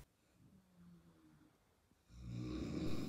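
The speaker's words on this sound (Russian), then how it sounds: "И храп моих соседок." Hospital roommates snoring at night in a ward: a faint snore rumbles softly at first, then a louder, rough, rattling snore swells near the end, with no talk.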